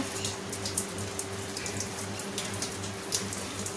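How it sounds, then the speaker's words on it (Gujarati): Light rain patters steadily and softly, with scattered drops ticking on a surface over a faint constant hum. No one speaks. "જો વરસાદ આવે છે"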